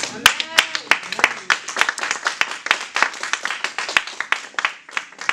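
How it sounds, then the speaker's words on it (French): Applause at a church gathering, sparse and uneven claps from a small audience with distinct individual hand strikes, while a voice speaks over the first part. "vous pouvez applaudir pour vous-même."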